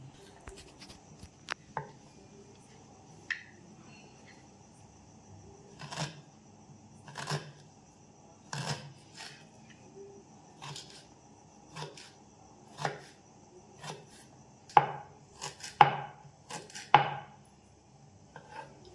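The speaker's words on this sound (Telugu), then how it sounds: "ఇప్పుడు అల్లం కట్ చేసుకున్నాం" Ginger being chopped finely with a knife, heard as a steady run of sharp, close chopping taps on a board that cluster faster toward the end.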